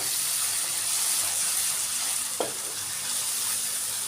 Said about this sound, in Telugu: అల్లం వెల్లుల్లి పేస్టు, కొత్తిమీర, పుదీనా ఇలా బాగా నూనెలో ఫ్రై అవ్వాలి